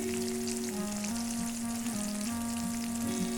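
Tomato and spices frying in a pan, a steady crackling sizzle that runs continuously and close up, with no talk over it.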